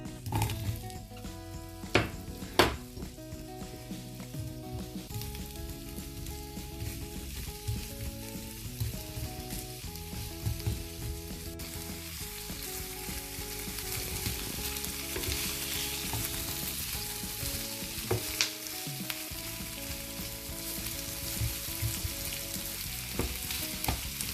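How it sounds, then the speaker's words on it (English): Onions fry in the same pan used to cook veal, giving a steady close sizzle with occasional scrapes and stirring clatter, continuous and moderately loud, with no voices. "in the same fry pan where I cooked the meat, I will cook now the onions"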